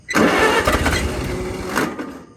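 A Farmall 140 tractor engine turns over and catches for a moment, a loud, rough burst of cranking and firing that lasts about two seconds before cutting off.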